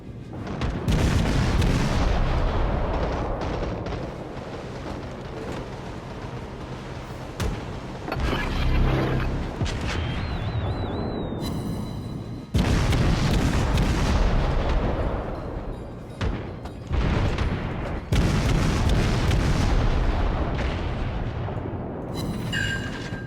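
Warship main guns fire in World of Warships, deep booming salvos and heavy blasts rolling out repeatedly over a constant low rumble of battle, loud and dense across the whole stretch.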